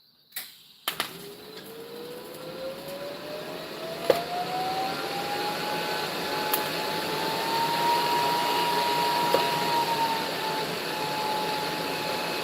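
A TIG welder tacks metal in a shop: a steady buzzing hiss with a faint rising whine runs for several seconds after a few sharp clicks at the start.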